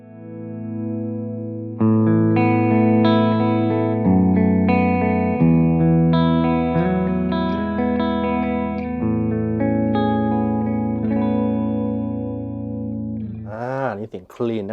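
Clean electric guitar tone through a Soldano SLO pedal into a 100-watt amp. Sustained chords and notes ring out clearly and fairly loud, with no talking over them.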